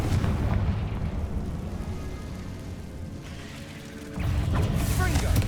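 Blasting Confringo spell going off in Hogwarts Legacy, a heavy booming explosion with a rumbling low-end burst that swells again near the end, loud and close amid game effects.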